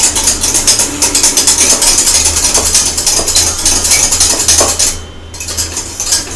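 A utensil stirs béchamel sauce in a pan, rapid rhythmic metallic scraping and clinking close up, loud and steady, over a low hum, easing off near the end.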